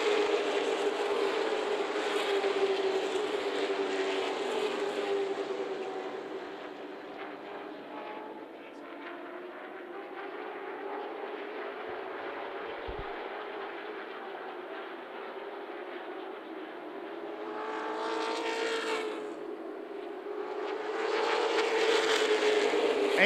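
Late model stock cars roar around Myrtle Beach Speedway in a 75-lap feature race, a steady loud engine drone that swells and fades as the pack passes, with no voices over it.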